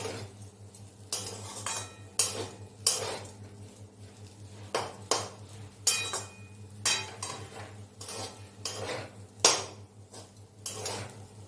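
Chicken chowmein with green chillies is tossed in a pan, a spatula or utensil clinking and scraping against the metal in a regular rhythm over a faint sizzle.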